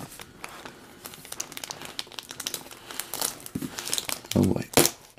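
Plastic packaging around a king size comforter crinkles and crackles up close as it is opened, with irregular rustles building to louder tearing crunches near the end.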